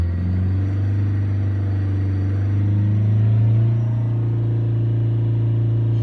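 A diesel engine held at about 3000 rpm during a fuel pump test gives a loud, steady, deep drone that swells slightly midway. No one speaks.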